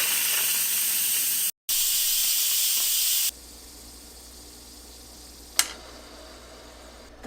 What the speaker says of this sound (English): I'll do a quick release by pressing the quick release button down.